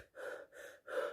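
A person imitates fast, frightened breathing, three quick breathy gasps with short pauses between them, close and fairly soft, with no talking.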